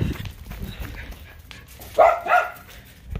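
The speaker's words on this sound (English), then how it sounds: "Okay, don't bark at me." A dog barks twice in quick succession outdoors, fairly close, over light background rustle with no talk during the barks.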